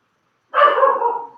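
A single dog bark, a drawn-out woof with a slightly whining tail, comes in loud and close after half a second of silence, with no talking over it.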